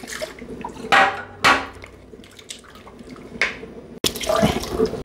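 Water poured into a peanut sauce mixture in a cooking pot gives a few short, close splashing pours with gaps between them, with no talking.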